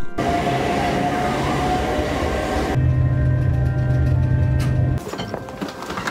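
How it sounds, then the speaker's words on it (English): A train rumbles steadily from on board, a loud continuous roar with a low drone that shifts partway through and eases near the end, with no talking. "Join me on some trains."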